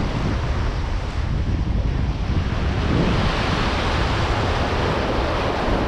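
Wind gusts across a sea-fishing spot on the coast while waves and surf roar steadily, a loud, continuous wash with wind buffeting the microphone.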